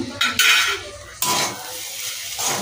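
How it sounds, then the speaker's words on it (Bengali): Spices stirred in a metal cooking pot for a vegetarian foxtail millet khichuri, giving loud close scraping and clinking strokes with a faint sizzle, no talking. "সব মশলাটা ভালো করে নেড়ে নিলাম"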